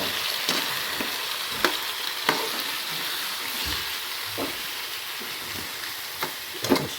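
Tilapia hits a hot pan with browned ginger and sizzles continuously, with scattered sharper pops and crackles through a steady frying hiss; no one speaks.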